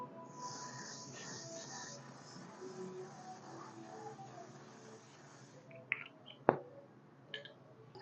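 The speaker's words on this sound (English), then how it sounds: "I'll be using this makeup spray to seal everything in." Makeup setting spray misted over a finished traditional bridal makeup look, giving a soft, quiet hiss that lasts about two seconds and then fades to a faint spray with a few small clicks.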